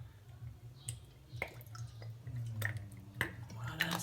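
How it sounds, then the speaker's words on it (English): Balsamic vinegar poured over two small tins of tuna in a cookery school kitchen in Spain, heard as a few close, separate drips and wet clicks against a steady low background hum, with no talking. "Bit of the old balsamic vinegar."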